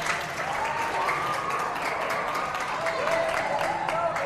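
Students and audience in a school hall in Ternate clap together, a continuous broad wash of applause with crowd murmur, while a voice speaks over the clapping throughout.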